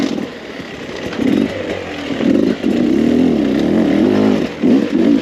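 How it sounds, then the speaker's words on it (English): A Beta 300 dirt bike engine revs on single-track trail, its loud, raspy drone surging and dropping in repeated throttle bursts, close and alone. "the power delivery itself on this Beta 300 motor is one of the best, I think, for single track riding"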